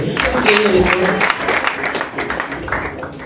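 A comedy festival audience in Goma applauds a stand-up joke with a burst of dense, moderately loud clapping and some laughter, while a voice carries on over it.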